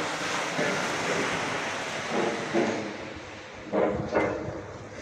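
Sea waves wash in continuously beside a seaside embankment with a broad hissing roar, swelling into louder surges now and then, mixed with wind noise on the microphone.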